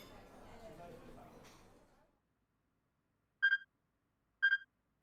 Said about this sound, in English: He heard the strange beeping sound again